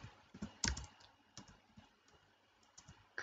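Rapid keystrokes on a computer keyboard while entering router configuration commands, with one sharper louder clack among quieter uneven clicks; no voice.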